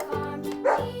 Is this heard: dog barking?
yes